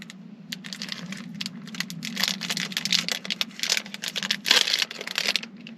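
Product packaging being pulled apart by hand, a dense run of crinkling, tearing and plastic crackles lasting several seconds, loud and close over a steady low hum.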